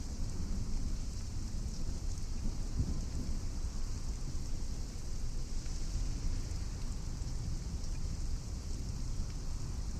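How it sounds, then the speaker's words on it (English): Steady, loud rain in the cozy shop-brewing game Potionomics, a continuous dense hiss with low rumbling underneath that holds evenly throughout without any talking. "Man, it's still raining."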